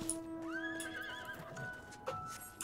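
A horse in Final Fantasy XIV: Endwalker whinnies clearly with a rising, wavering call, followed by a few hoof clops, set against a faint steady musical drone.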